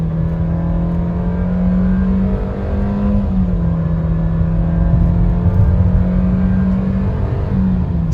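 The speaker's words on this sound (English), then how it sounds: "so accelerating, it's actually it's actually louder than the manual" A 2024 Nissan Versa S with a CVT accelerating, heard from inside the car. The engine drone rises smoothly and holds a steady, loud whine with no gear shifts.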